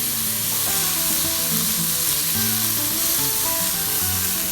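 Mushrooms sautéing in a hot pan give a dense, continuous sizzle and crackle, close and loud throughout, with faint stirring underneath and no talking.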